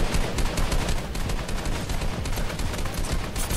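Shotgun and other gunfire in the video game Fortnite crackles in dense, continuous bursts, loud and close throughout with no talk audible.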